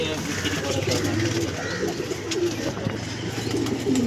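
Andhra breed pigeons coo continuously in a loud, busy coop, the soft rolling calls overlapping with people talking nearby throughout.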